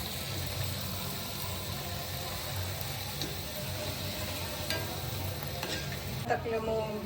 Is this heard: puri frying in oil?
yes